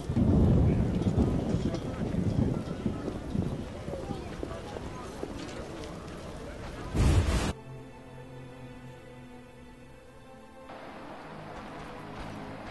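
Rain and rumbling thunder fill a stormy scene in The Witcher 1, with heavy downpour and booming thunder early on, then a quieter, muffled stretch; someone talks over much of it.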